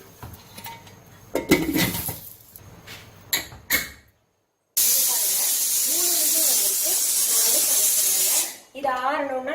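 A pressure cooker cooking methi dal lets out a loud, continuous whistling hiss of escaping steam for several seconds, after kitchen clatter and a brief pause, then cuts off into more handling noise.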